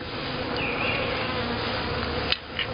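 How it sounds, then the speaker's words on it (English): Honey bees buzz densely and continuously around open hives during an inspection, a close, steady drone with a brief sharp knock near the end. "that's when the bees are the most active and out foraging"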